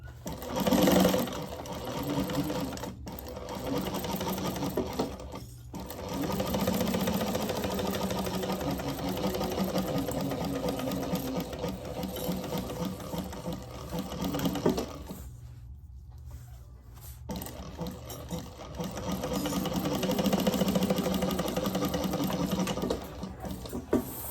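Sewing machine stitching down the flaps of a laptop bag, a close, steady mechanical whir that runs in long stretches with brief pauses between them.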